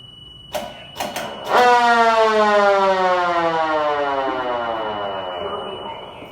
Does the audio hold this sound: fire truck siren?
yes